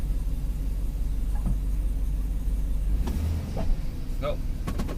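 Crawler hauler with a freshly rebuilt rear axle, new gear oil and just-adjusted brakes rolling on a short test drive, its low engine rumble steady and close, with a few faint mechanical clicks and whirs over it.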